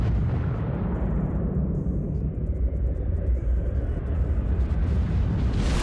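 A nuclear bomb explosion sound effect: a deep, sustained rumbling roar heavy in the low end, loud and continuous throughout with a slight swell near the end.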